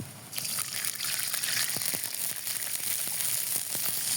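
Water poured into a hot pan of fried onions for a fish-head curry, a steady rushing hiss with small crackles and drips, fairly close.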